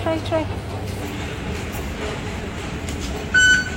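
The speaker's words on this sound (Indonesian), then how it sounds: "This is the MRT station." Station ambience at an MRT subway stop, a steady low rumble of train and platform noise with a short electronic chime near the end, with people talking over it.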